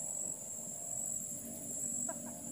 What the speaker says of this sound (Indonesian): Oh, jangkrik.